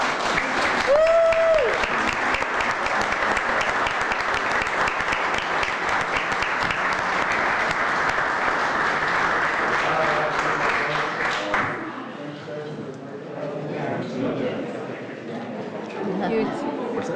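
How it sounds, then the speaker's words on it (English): Applause fills a board meeting room for about eleven seconds, steady and dense, with a brief whistle near the start, then gives way to people talking. "How about one more round of applause?"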